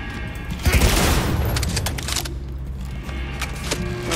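Shotgun blasts in a Cyberpunk 2077 firefight, a loud burst of gunfire followed by a rumbling tail and scattered smaller game effects, close and dense.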